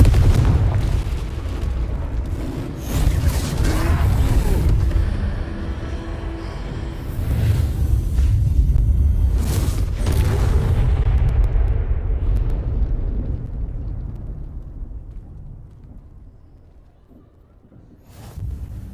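Confringo fire spells cast during a troll fight in Hogwarts Legacy, setting off a dense run of loud, rumbling booms and blasts with crackling bursts that die away to near silence before one last thud.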